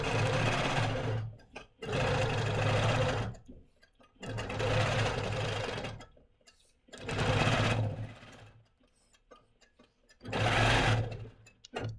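A longarm quilting machine stitches a 25-patch quilt in five bursts of rapid, even needle chatter, each separated by a short near-silent pause. The sound is close and clear, with no talking over it.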